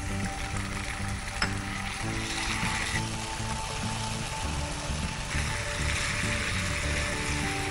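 Onion and Schezwan sauce sizzle in hot oil in a pan on a cooking show, a steady, close, continuous frying hiss with faint stirring and no talk.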